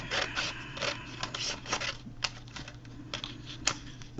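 Close, fairly quiet snipping and crisp paper rustle while scissors cut around a paper journal decoration, in irregular short bursts over a faint background hum.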